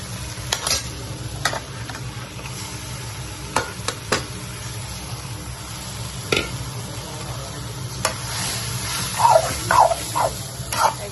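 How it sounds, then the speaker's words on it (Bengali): Loitta fish frying in a pan with onion and ground chili paste, a steady moderate sizzle broken by scattered utensil scrapes and clinks. "একটু করে পেঁয়াজ দিয়েছি বেটে রাখা লঙ্কা মাছটা দিয়ে দিয়েছি"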